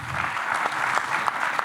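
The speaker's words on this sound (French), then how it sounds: "que vous pouvez applaudir aussi, pas de jaloux" Applause from a conference audience at a sailing event about the IMOCA class, a short, even patter of many hands clapping at moderate volume with a few sharper individual claps standing out.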